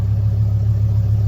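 Car engine running loud and close, a deep continuous rumble that holds steady without voices.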